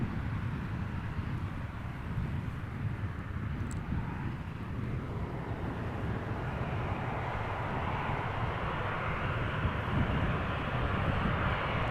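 A Transavia airliner arrives at Amsterdam Schiphol on a flight from Mahon, its engines giving a continuous loud broadband roar with a steady rumble throughout, heard from a distance outdoors with no voices.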